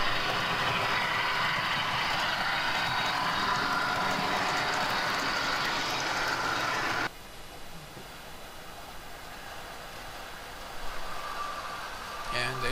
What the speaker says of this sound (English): And there's the subway again.